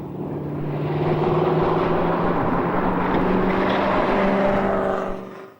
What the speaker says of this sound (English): Laurie Beecham driving hard and very busily to keep the big Falcon flying on such a twisting mountain road